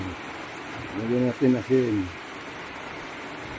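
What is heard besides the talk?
rain falling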